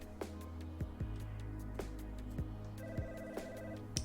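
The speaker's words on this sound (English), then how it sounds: "it was to the sound of the phone in the downstairs hallway" A telephone in a downstairs hallway rings in repeated short bursts, muffled and somewhat distant over a steady low hum, with no voices present.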